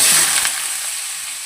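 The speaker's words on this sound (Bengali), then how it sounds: "কালো জিরেটা দেওয়ার পরে এবার কেটে রাখা আলুটাকে দিয়ে দেবো।" Cut potatoes hitting hot oil with black cumin seeds in a pan, a loud hissing sizzle that bursts at the start and settles into a steady fry over a second and a half.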